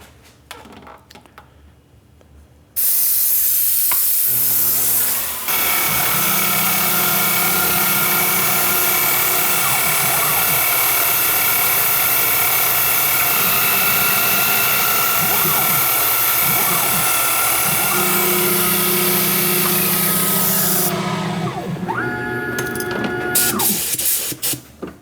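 A lathe drills through metal loudly for about twenty seconds, a harsh broadband whir with steady tonal hum, starting and stopping abruptly, close by.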